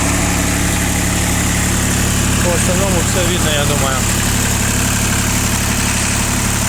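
A Hinomoto C174 4WD three-cylinder mini tractor with a rotary tiller and 515 engine hours idles evenly with a steady low hum, while someone talks close by.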